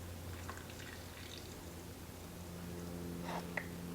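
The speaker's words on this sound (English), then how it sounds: "then you just pour some more water in" Hot but not boiling water is poured into a yerba mate cup with a spoon standing in it, a soft, close trickling and gurgling stream that continues quietly with a few drips.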